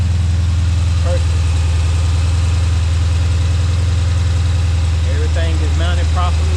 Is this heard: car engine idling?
yes